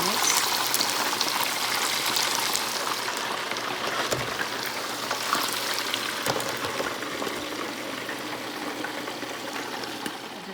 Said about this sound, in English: I just ordered some more duck fat for my fryer that I'm frying my fish in right now.